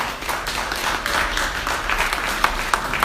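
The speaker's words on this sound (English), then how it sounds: "So please, a round of applause for my president." Conference audience at a Nigerian community safeguarding event applauds their association president, a close, lively burst of clapping with individual sharp hand claps popping out toward the end.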